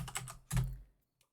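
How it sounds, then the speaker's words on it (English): Quick, close keystrokes on a computer keyboard tap out a short burst, followed by a heavier clack and a faint final click in quiet surroundings. "typing in my address right now"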